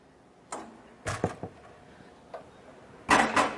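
Several sharp metallic clacks and thumps of the entry steps of a 2019 KZ Sportsmen LE 261 RLLE travel trailer folding up into the door frame, spaced over a few seconds, close by.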